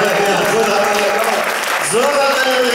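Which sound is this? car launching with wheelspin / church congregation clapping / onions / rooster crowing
church congregation clapping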